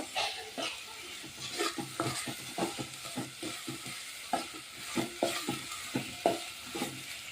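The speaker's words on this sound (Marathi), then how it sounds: "आता हे तेलात चांगला मसाला भाजून घेते जरा त्याला तेल सुट तोपर्यंत" Masala roasting in oil in a pan, sizzling steadily while a spatula stirs and scrapes in quick rhythmic strokes, close up and fairly loud, with no voices.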